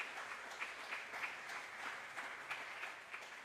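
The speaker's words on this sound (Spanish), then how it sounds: "Dale un aplauso a Jesús" Church congregation applause during a sermon, a steady faint spread of many hands clapping at a distance.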